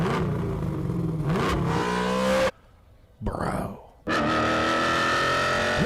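A fully upgraded 1970 Plymouth Cuda with all new internals and 750 horsepower revs hard in loud, sustained bursts, cut by a sudden near-silent gap and a short rising rev before the roar resumes; a voice briefly exclaims.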